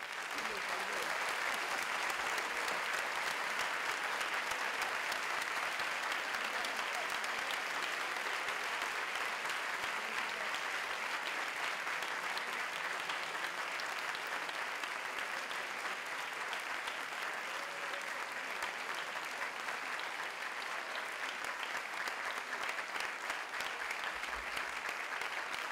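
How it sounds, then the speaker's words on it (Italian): Grand applause from an audience at an architecture talk with Herman Hertzberger, dense sustained clapping filling the whole stretch at a steady level without a break. "Grand applause."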